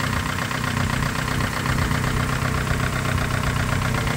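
A Nissan Silvia S15 Spec S engine runs steadily at close range, a constant loud, rough mechanical drone with an even, busy texture and no talking.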